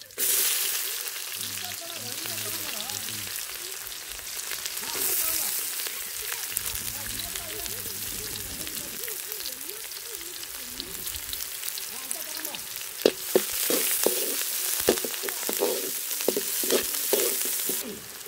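Onions sizzle and fry steadily in oil in a pan while a drumstick-leaf palya is cooked. Crackling stays continuous throughout, with stirring scrapes and a few sharp pops in the second half.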